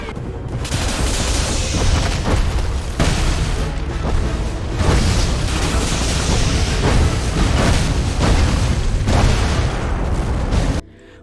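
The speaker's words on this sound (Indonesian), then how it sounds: "Dengan menggunakan senjata yang ada di helinya, si bos memberondong mereka dengan tembakan dan seperti ini adegannya." Gunfire from a helicopter in an action film scene, dense booming bursts of automatic shots and blasts in long loud volleys with brief gaps, ending in a sudden cutoff.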